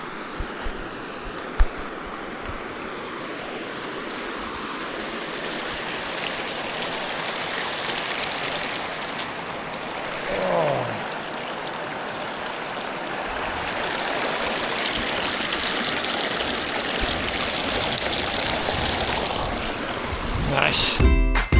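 A river on the Pennine Way flows with a steady broadband rush of water that holds an even level throughout, with a few brief knocks and rustles near the end.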